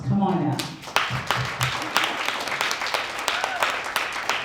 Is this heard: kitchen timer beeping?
no